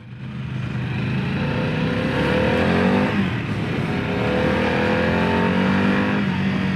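A 2025 Harley-Davidson CVO Pan America motorcycle ridden in sport mode produces a loud, steady engine drone that swells with revs and runs continuously beneath rushing road and wind noise.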